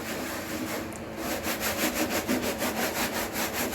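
A stove part being scrubbed clean by hand, a steady rhythmic back-and-forth scraping and rubbing close by, with no talk.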